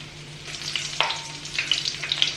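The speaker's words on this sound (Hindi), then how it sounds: "तो अजवाइन में भिंडी बहुत ही टेस्टी लगती है" Okra frying in a pan with carom seeds and green chilies, a steady crackling sizzle with brief sharp pops and a light clink near the middle, close and alone with no talking.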